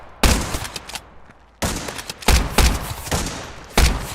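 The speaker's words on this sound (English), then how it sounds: "If the gunfire's too loud, let me know." Gunfire in a shooter video game: loud, close bursts of rapid shots in several volleys, separated by brief quieter gaps.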